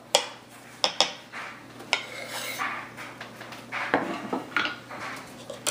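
Wonton filling of green onion and crushed garlic being mixed in a bowl, with uneven scraping, clinks and knocks of a utensil against the dish, some sharp taps standing out over a soft rubbing texture.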